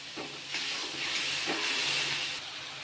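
Spices sizzle and hiss in a hot pan for a potato and cauliflower curry, a continuous, fairly faint frying sound that swells louder through the middle before easing back, with no voices.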